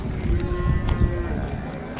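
A cow moos at a busy cattle market in Chust, one sustained low bovine call running the full length, fairly close, over the crowd murmur of the livestock bazaar.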